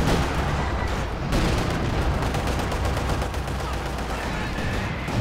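Mortar and gunfire in a Company of Heroes 2 1v1 match: dense, continuous rattling shots and thuds of combat with no pause.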